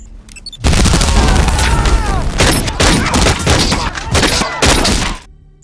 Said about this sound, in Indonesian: tiba-tiba ada meledak bom yang sudah ia pasang hingga terjadi ledakan